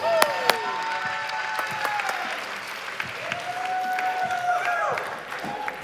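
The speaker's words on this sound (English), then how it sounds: "Give him a big round of applause" Applause from an audience at a startup pitch competition as an Estonian founder comes up, a soft diffuse wash of clapping held at a steady level with faint tonal sounds and talk in the background.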